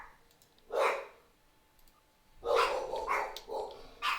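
Household dogs barking indoors, a single yap followed by a cluster of several sharp barks a moment later, moderately close with quiet gaps between.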